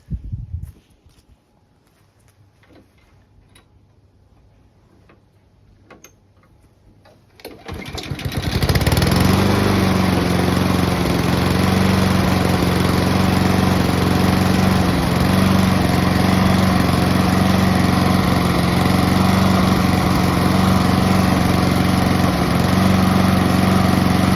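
A petrol lawn mower sits quiet for several seconds, then its engine fires up and settles into a loud, steady, close drone that runs to the end, left running to burn off its fuel before winter storage.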